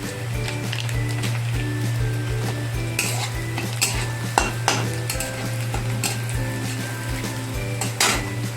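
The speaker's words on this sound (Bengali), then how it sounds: "পেঁয়াজটা আমার ভাজা ভাজা হয়ে এসছে। এরপর আমি ওর মধ্যে একটুখানি দিয়ে দিচ্ছি জিরে পাউডার বা জিরে গুঁড়ো" Onions frying with a little ground cumin while being stirred for a prawn and taro curry, an even sizzle under frequent clinks and scrapes of a metal spoon against the pan, with a steady hum beneath.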